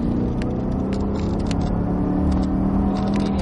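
A Cadillac CTS-V engine pulls hard at full power on a track, a loud, sustained low roar filling the clip without a break.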